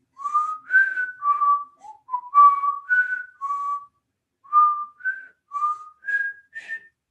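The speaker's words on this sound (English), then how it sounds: "I will whistle annoyingly." A single person whistles a slow, wandering tune indoors, clear and close, in short separate phrases with brief pauses between them and no talking over it.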